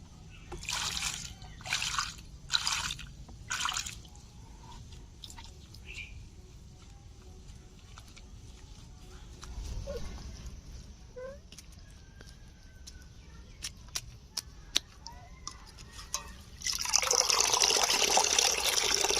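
Water is poured over freshly picked greens in a basket for washing, starting with a few short splashing pours. After a quiet stretch, a loud, steady gush of water closes the sequence.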